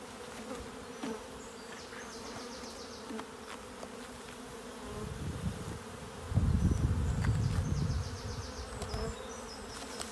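Honey bees buzz steadily as a colony is moved from a nucleus box into a 10-frame hive, with a thicker, louder swell of low humming toward the end.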